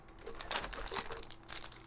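A small piece of sticky-backed cloth moleskin, a Kroger-brand shoe pad, is handled close up, giving brief soft crinkling and rustling bursts that come and go.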